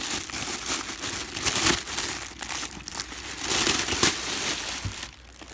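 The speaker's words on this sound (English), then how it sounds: "Let's unwrap all this plastic." Plastic packaging is crinkled and pulled off a boxed, autographed full-sized NFL football helmet, giving a continuous close-up rustle with louder crackling bursts and brief tearing, tapering off at the end.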